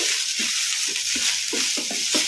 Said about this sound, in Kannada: ಈ ಥರ ಕಲಿಸ್ಕೊಂತ ಫ್ರೈ ಮಾಡ್ಕೋಬೇಕು ಒಂದೆರಡು ನಿಮಿಷ ಹೈ ಫ್ಲೇಮಲ್ಲಿ